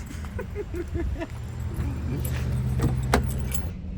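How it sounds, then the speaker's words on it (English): Keys jingle and clink in a few quick bursts, close by inside an Audi car, over a steady low engine hum with faint murmuring in the background. "Wait, can I give you my keys?"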